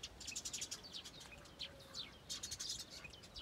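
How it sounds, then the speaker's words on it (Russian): Small birds chirp and twitter outdoors in nature in rapid repeated bursts, moderately close but soft, with a faint hiss of background ambience and no talking. "О, птички поют."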